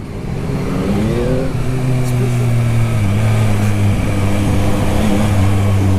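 A 2021 Yamaha MT-09 motorcycle with its stock exhaust revs up close and loud, the engine note rising and falling through several steady pulls without pause.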